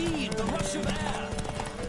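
Rhythmic hoofbeats of galloping horses in a horse race in The Witcher 3: Wild Hunt, under layered game music and effects, with voices shouting over the action.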